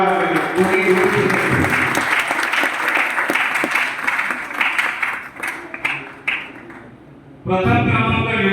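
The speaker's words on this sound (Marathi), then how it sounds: "जरा जोरदार टाळ्या वाजवायच्या" Audience at a Dombivli abhang singing competition prize ceremony claps loudly and steadily, the applause thinning into scattered claps before a speaker's voice comes in at the end.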